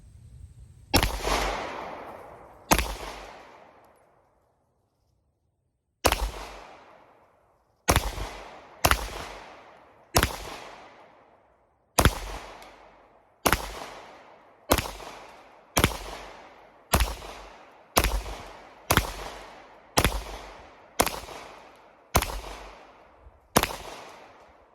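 A SAR USA K-12 Sport pistol fires a string of sharp, loud shots outdoors, two quick rounds, a pause, then a steady rhythmic run of about fifteen more, each with a short decaying echo.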